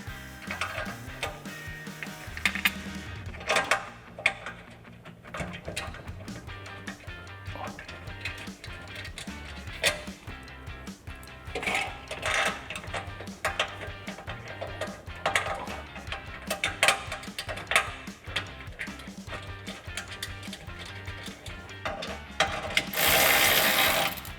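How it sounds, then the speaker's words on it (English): A ratchet with a 13mm socket tightening exhaust hanger hardware on a Jeep Gladiator, making quick runs of fast clicking close by, with short pauses between bursts and some metallic handling. "we're going to put our hardware in by hand and then tighten it down with our 13mm socket"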